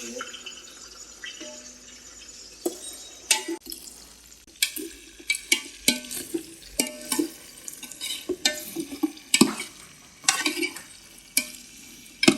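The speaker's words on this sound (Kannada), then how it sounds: "ಈರುಳ್ಳಿ ಹಾಕಿದ್ದೀನಿ ಈರುಳ್ಳಿ ಸ್ವಲ್ಪ ಕೆಂಪು ಆಗೋ ಗಂಟನೂ ಹುರ್ಕೊಳ್ಳೋಣ" Onions frying and being stirred in a pot for biryani, with repeated scraping and clattering strokes over a steady sizzle; people talk at times in the background.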